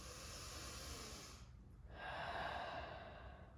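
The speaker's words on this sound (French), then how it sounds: "Donc, je vais respirer." During a back-pain exercise, a person takes a slow, deep breath aimed into the lower back: a long airy exhale, a brief pause, then a fuller inhale, close and soft, with no talking.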